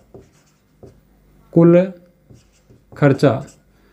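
Short scratchy strokes of writing on a board during a maths lesson on averages, the faint marks broken up by bursts of a person speaking.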